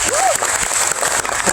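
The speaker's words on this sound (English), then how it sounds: "So how about a round of applause for Si?" Audience applause fills the space at a Taste of Epcot Monday Night Football show, a steady wash of clapping from a crowd with a brief whistle or cheer rising near the start.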